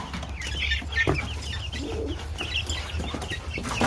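Hens cluck softly and intermittently nearby over a low background hum, with an occasional flutter and no talking.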